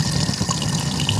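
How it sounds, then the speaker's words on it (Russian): Water is poured in to fill a stainless water filter, a steady close splashing and trickling flow lasting about a second without talk. "Ну, способ вот наливки воды такой. Открываешь эту воду."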